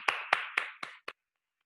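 Five sharp hand claps in a steady rhythm at a spiritual group gathering, the last one shorter, then quiet.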